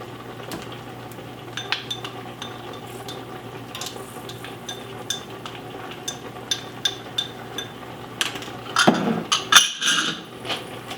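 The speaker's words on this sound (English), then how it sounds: "Now let me stir this up" Garlic and onion stirred in a cooking pot for collard greens, heard as scattered light clinks and scrapes of a utensil against the pot, with a louder burst of clattering near the end and no talking.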